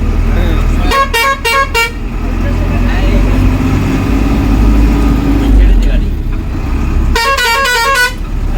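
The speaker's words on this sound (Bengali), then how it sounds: "এই আমাদের বাস ছেড়ে দিল বন্ধুরা দেখো" A passenger bus pulling away on a road trip near Kolkata, its horn blaring in rapid repeated honks at the start and again near the end over a loud, steady engine rumble, with a voice talking close by.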